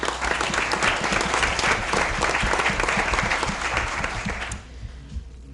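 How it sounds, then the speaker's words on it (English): Sustained, dense applause from a school board meeting audience honoring a board member and the board president, steady for over four seconds, then dropping off quickly to quiet room tone. "applause to Mr. Saletti and Board President Claus for all of their"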